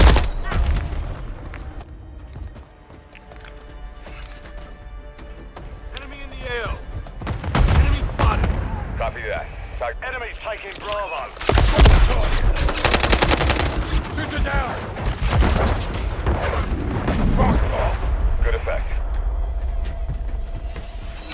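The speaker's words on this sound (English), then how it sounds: "I'm taking fire!" Gunfire from Call of Duty Modern Warfare 3 on the map Rust: sustained automatic bursts and single shots with booms and thuds, loud and close, under shouted in-game voices.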